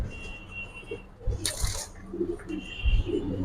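Giribaz pigeons coo softly at close range, with several low, throaty coos spread across the moment over faint background rustle and a short burst of brighter noise.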